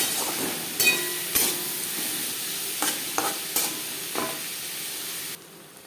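Small puti fish tossed with salt and turmeric in a frying pan, a steady sizzle under scattered scraping strokes and a few sharp clinks of the spatula, close and fairly loud, no voices.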